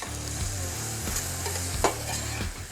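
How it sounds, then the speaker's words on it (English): A spoon stirs seafood gumbo in a pot over gentle sizzling, with soft scraping strokes and a brief clink, close and steady, with no talking. "we're going to stir that up a little bit"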